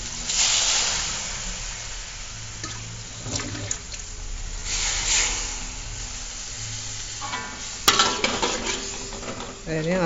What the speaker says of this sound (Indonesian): Kita aduk sambil ditekan ya, biar dia terurai.